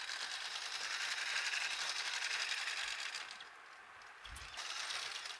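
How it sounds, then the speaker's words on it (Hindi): A sewing machine stitching a fabric fridge cover: a steady, fast mechanical whir with rapid needle clatter running for several seconds, then a brief slowdown and pause before it starts up again. "और अब मैं इसमें सिलाई लगा दूँगी।"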